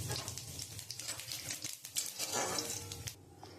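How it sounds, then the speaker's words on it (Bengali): Cumin seeds and a bay leaf sizzling in hot oil in a pan where eggs were just fried: a busy, crackling spatter with scattered pops, moderately close and steady throughout. "আমি একটু জিরে আর একটা তেজপাতা ফোড়ন দিয়ে দেবো।"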